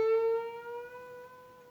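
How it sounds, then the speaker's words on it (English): A single guitar note rings out and is bent upward, its pitch sliding smoothly higher as it sustains and slowly fades, quiet and alone. "You just have to stretch the string upward like this."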